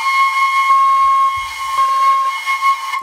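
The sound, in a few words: shinobue Japanese bamboo flute note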